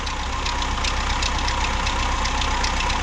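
A car engine idles steadily with a faint rattle from the timing chain, a continuous close rumble with light rhythmic ticking and no voices over it.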